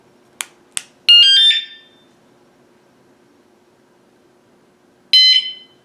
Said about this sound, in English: you're going to hear a sound, and then it's going to beep after 5 seconds